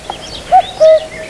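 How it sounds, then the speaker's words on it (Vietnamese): A cuckoo gives its clear two-note call, a short first note followed by a longer second, loud and close against a quiet background. "Cuckoo."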